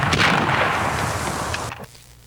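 Cannon artillery fire as a sound effect, a loud, booming blast that rolls on for more than a second before cutting off into quiet.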